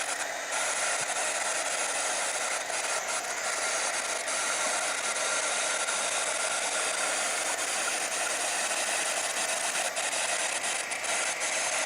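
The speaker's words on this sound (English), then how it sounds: "You want to move the heat tool away from the embossing powder" A heat tool blows a steady, loud, breathy hiss of hot air to melt embossing powder, holding an even roar throughout with no talking.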